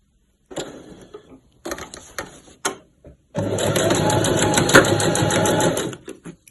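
A sewing machine stitches the side seams of a weekender bag with a 1.5 cm seam allowance, first in short stop-start bursts, then in one loud continuous close-up run lasting a few seconds.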